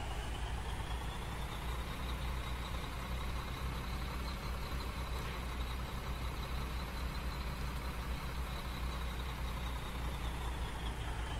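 Steady, dense engine drone of a car in the survival video game Unturned, running continuously at an even level with no talk over it.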